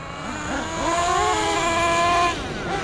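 Kyosho USA-1 nitro RC truck with a two-speed transmission runs hard, its small engine whining in rising and falling revs with a steady high buzz, loud and close throughout.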